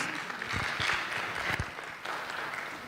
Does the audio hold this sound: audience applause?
yes